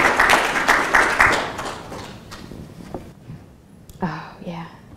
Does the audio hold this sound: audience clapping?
yes